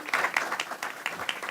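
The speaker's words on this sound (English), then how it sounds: "please give her another round of applause" A short burst of audience applause at a health-policy event, scattered individual claps fairly close, with some louder single hand slaps within a moderate crowd for just over a second.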